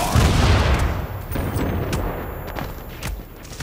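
Heavy gunfire in The Division video game, a loud opening fusillade of rapid overlapping shots with deep booms, then continuing sharp reports that thin out toward the end.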